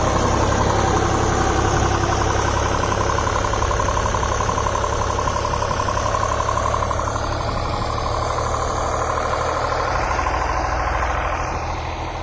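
A Waldon 5000 diesel front loader idles after a cold start, a steady loud low rumble with a rough, even chugging pulse that holds throughout and eases slightly toward the end, with no voices.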